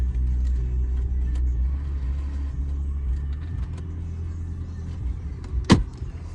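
A 2005 Mercedes-Benz SLK350 3.5 V6 engine idles with a steady, low rumble close by, smooth and even, with a brief clunk near the end.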